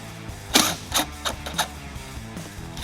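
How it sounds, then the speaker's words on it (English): A hand ratchet clicks in short, uneven bursts while 10mm bolts go back into a hitch underbody panel on a 2023 Toyota Sienna, with crisp mechanical ticks close by and no talk. "Now we're going to reinstall these 10mm bolts."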